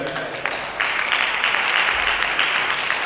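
A worship congregation applauds and cheers the Lord, a steady wash of clapping and voices swelling after the first second and holding loud to the end, with a preacher's voice faint underneath.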